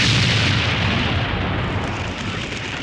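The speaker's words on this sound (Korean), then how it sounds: "평화로운 시간이 계속되던 라퓨타의 폭발음이 들리기 시작합니다." Blasting explosions on the floating island of Laputa in an anime film, a dense, loud, continuous roar of booming detonations with crackling debris that fades slightly toward the end, no voices.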